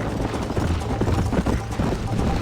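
Close, fast hoofbeats of a galloping horse in the Red Dead Redemption video game drum in a tight, steady rhythm through a short burst.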